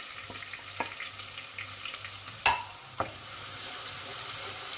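Ginger-garlic paste frying in hot oil for chicken haleem, a steady close sizzle with a few sharp spoon or pan knocks and no talking.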